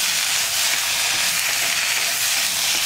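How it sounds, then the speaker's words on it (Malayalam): Tomatoes sautéing with spice powders on high flame for a brinjal roast, a steady bright sizzle and hiss that runs evenly and loudly throughout, with no voices. "തക്കാളി ചേർത്ത് വഴറ്റുമ്പോൾ പൊടികൾ വീണ്ടും കുക്കായിക്കോളും തക്കാളി ചേർത്തിട്ട് നമുക്ക് ഹൈ ഫ്ലെയിമിൽ തന്നെ വയ്ക്കാം"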